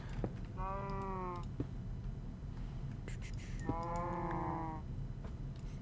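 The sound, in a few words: cow mooing in a video game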